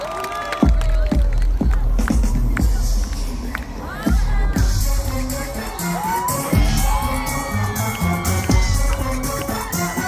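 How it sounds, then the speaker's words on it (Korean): A festival concert audience cheers and shouts loudly at the close of a nightclub-medley encore, with sharp bangs and claps scattered through a continuous crowd roar and music tones faintly underneath. "큰 박수 부탁드립니다"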